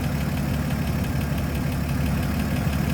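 A 1954 Chevrolet 3600 pickup's 235 cubic-inch inline-six idles smoothly and steadily, a close, even low rumble with no other sounds.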